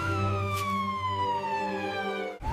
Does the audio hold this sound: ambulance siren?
yes